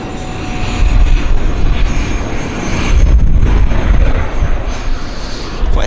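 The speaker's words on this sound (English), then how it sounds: "another Bizjet makes a landing" A business jet lands at Vancouver airport, its engine roar broad and steady at moderate distance, swelling slightly midway as it passes and rolls out.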